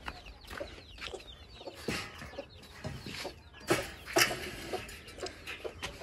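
Several chickens cluck and squawk in a coop, a run of irregular calls with a few louder sharp cries standing out near the middle, fairly close and without speech.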